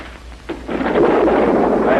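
Rolling thunder from an approaching storm, a soft rumble that swells after a brief crack into a sustained, loud roar filling the rest of the moment, with no voices over it.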